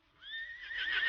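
A horse neighs in a single rising, quavering whinny as a sound effect, clear and fairly close, swelling in loudness toward the end with no voices.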